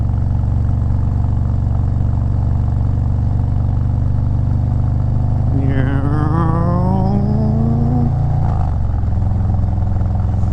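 Harley-Davidson Sportster engine running loud and close with a steady low rumble, then rising in pitch as the throttle is opened and dropping abruptly back to idle.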